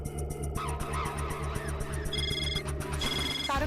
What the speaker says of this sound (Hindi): तारक का फोन